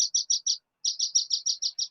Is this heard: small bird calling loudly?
yes